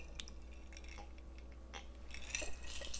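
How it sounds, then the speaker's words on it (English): A knife chops fresh herbs on a board in a quiet kitchen, giving a few faint, scattered taps and soft clicks with brief pauses, ending in a slightly louder cluster of cuts. "So I got my herbs picked, and I'm just going to chop those up"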